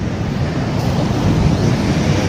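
Sea waves washing onto the shore at Thiruvanmayur beach, a steady broadband roar of surf with wind across the microphone, loud and continuous without any break, and no speech.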